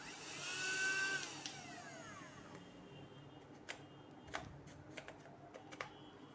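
Small motor of a 2-in-1 handheld vacuum cleaner whirs up briefly, its pitch sliding as it spins up and winds down, followed by quiet clicks and handling noises.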